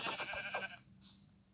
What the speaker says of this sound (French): Là, on a un mouton.